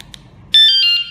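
A KS-SF22R vehicle security alarm emits a loud electronic beep while pairing a new remote, preceded by two faint short chirps.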